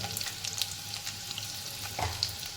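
Crushed garlic cloves and a pinch of asafoetida frying in hot oil for a potato and fenugreek dish, giving a steady close crackling sizzle with small pops and no voices.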